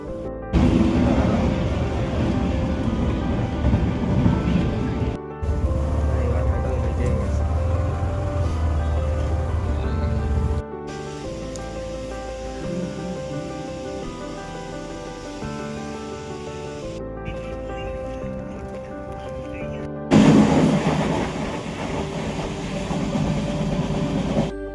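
A train rumbles and clatters at Channapatna railway station, a loud, continuous rolling noise close by, broken by several abrupt cuts, with no talking.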